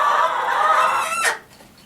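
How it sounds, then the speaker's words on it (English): Chickens in a backyard coop give a close, loud stretch of clucking and squawking that rises into one sharp call near the end, then drops off to quiet. "You don't like the chickens? How come? They won't hurt you. They're little."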